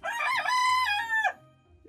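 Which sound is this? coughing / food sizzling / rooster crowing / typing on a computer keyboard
rooster crowing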